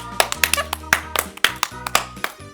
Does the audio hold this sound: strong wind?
no